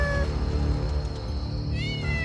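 A cat's loud, drawn-out meows in a Hindi horror story setting, two or three wavering cries over a dense, droning musical background.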